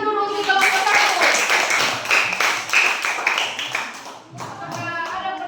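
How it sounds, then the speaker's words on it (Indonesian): A classroom applauds a student group after its presentation, a burst of clapping lasting a few seconds, then a brief pause before more clapping resumes. "Berikan tepuk tangan dulu untuk kelompok 1."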